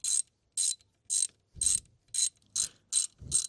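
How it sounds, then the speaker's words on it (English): A ratchet tightens a bolt on a 2007 Honda Accord Euro engine during an oil leak repair, giving eight brisk, evenly spaced clicking bursts, close and loud, with a few low knocks mixed in and no talk. "Alright, now we torque this down."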